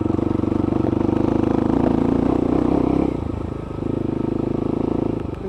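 A motorcycle with a new aftermarket exhaust rides along a woodland trail, its engine burbling loud and steady at close range, then easing off briefly before picking back up.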